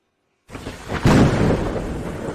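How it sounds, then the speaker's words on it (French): Steady heavy rain hisses broadband, swelling into a louder dense downpour after a brief quiet start, with a low rumble underneath. "Il pleut tellement dehors."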